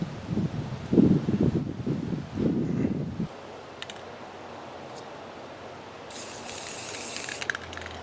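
A spray can paints a homemade everyday-carry Faraday cage: a loud, close hissing burst for about three seconds, then quiet, then a fainter, higher hiss near the end.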